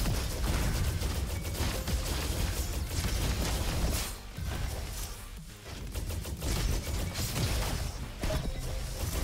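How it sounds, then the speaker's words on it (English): Rapid weapon fire in the Roboquest shooter game, a dense loud barrage of repeated bursts and impacts with a brief lull midway, continuous and close. "So this thing fires sticky bombs also."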